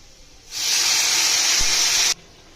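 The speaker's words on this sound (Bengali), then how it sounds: "এখন বাগার দিব" Hot oil sizzles sharply as garlic, onion and dried red chili hit the pan for a labra tempering, a sudden bright hiss that holds steady for about a second and a half, then cuts off abruptly.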